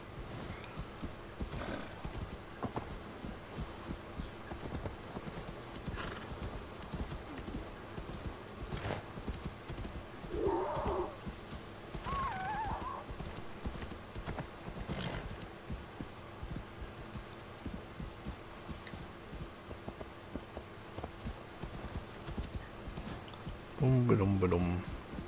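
A horse in Assassin's Creed Valhalla clip-clops steadily across snowy slopes, its hoofbeats a rhythmic patter under a low hum, with a couple of brief whinnies and a louder snort near the end.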